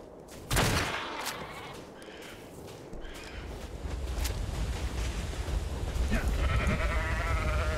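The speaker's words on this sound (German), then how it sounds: "Oh, zwei Schafe." Sheep bleat in the survival video game Ark, a short game-animal call rising over continuous game ambience and effects, with someone speaking over the scene.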